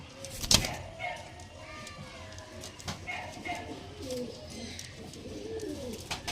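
A pair of Kalka pigeons coos softly nearby, low throaty calls repeating amid a sharp knock early on and light background rustle.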